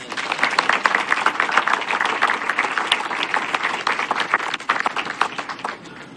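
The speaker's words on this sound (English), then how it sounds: "Let's give everybody a round of applause." Congregation at a baptism service breaks into sustained applause, a dense, steady wash of many hands clapping that carries on for several seconds before easing slightly at the end.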